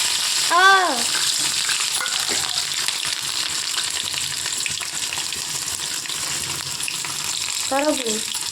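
Tomato pickle with mustard seeds frying in a pan, a continuous close sizzle with scraping stirs of a spoon and a couple of brief squeaky tones.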